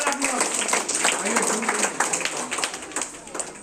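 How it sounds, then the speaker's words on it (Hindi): Audience at a school Teachers' Day event clapping together, a dense patter of many hands that carries steadily through without a break, moderately loud in an indoor setting. "जोरदार ताली बजाएं"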